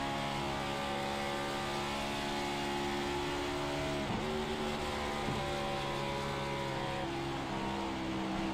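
A race car engine in a sim racing game drones steadily at high revs, with a brief downshift blip partway through and the pitch stepping up afterward, loud and close with no talking.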